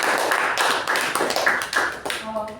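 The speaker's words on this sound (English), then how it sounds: "A huge round of applause for the speaker and the evaluator." Applause from a Toastmasters club meeting audience, a steady, dense patter of many hands clapping close by that fades at the end.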